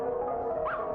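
A dog gives a short strained whimper and a yelping bark, close and fairly loud over a faint background hum, in a horror game.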